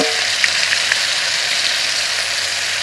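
Cumin paste sizzles steadily in hot oil in a pan with two green chillies, a continuous bright frying hiss that stays even and fairly loud throughout with no talk.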